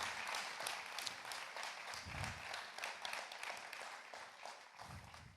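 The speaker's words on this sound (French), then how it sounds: "Je vous demande donc d'accueillir et d'applaudir Loïc Chauvolon" An audience applauds at a tourism conference on the beach as a regional tourism director is welcomed, a steady wash of distant, faint clapping that carries on throughout with no one speaking.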